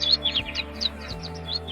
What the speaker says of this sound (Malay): Nampaknya bunyi itu datang dari burung.